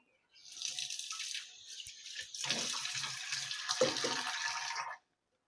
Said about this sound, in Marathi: हे आता एकदा वॉश करून घेऊ आपण